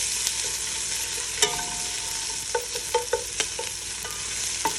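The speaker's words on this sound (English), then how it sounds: "I'm adding my sauteed onion on top" Sauteed onion tipped onto urad dal frying in a pan over reduced heat, a steady close sizzle of oil with a few sharp scrapes and clinks of the spoon as it is stirred in, no voices.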